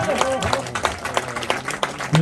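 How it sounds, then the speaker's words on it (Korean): Audience applause at a Korean campaign launch rally, a short burst of scattered hand clapping from a crowd, fairly close and steady, with a voice over a loudspeaker mixed in beneath. "큰 박수 부탁드리겠습니다."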